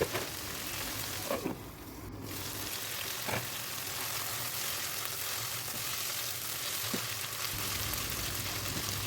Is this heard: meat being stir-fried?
yes